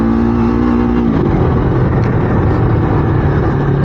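Yamaha MT-03 motorcycle engine while riding, a loud, steady drone with a wind-buffeted rumble that rises slightly in pitch early, close and continuous.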